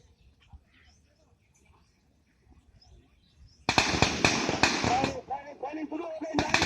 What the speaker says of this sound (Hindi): फायरिंग डकैत भी फायर कर रहे हैं, पुलिस भी फायर कर रही, दोनों तरफ से फायरों का आदान प्रदान।